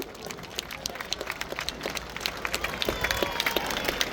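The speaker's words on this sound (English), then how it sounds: "Let's give 678 a massive round of applause." Outdoor crowd at a Red Arrows air show over Blackpool claps for a display pilot, scattered sharp claps over a broad open-air rush of wind and distant noise, building slightly toward the end.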